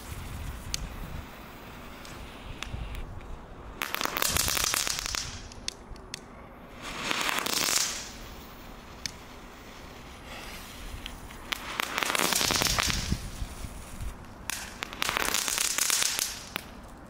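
Category 1 consumer fireworks from a Jumbo supermarket going off outdoors in several loud crackling bursts, each lasting a second or two, separated by quieter gaps with faint background noise.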